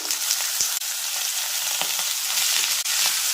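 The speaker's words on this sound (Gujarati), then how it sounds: "હવે સમારીને તૈયાર કરેલા બટેકા ઉમેરી દઈએ" Chopped potatoes fry in hot oil with onions for poha, a steady loud sizzle with occasional scraping knocks of a stirring spoon and no talking.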